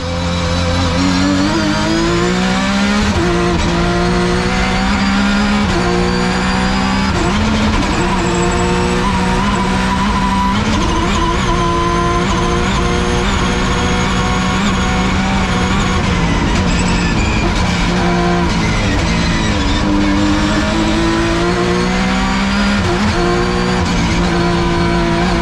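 Rally race car flat out along a long straight on a narrow road at night in Sainte-Marguerite, engine roaring loud and close with gear shifts and rising revs throughout, no talking.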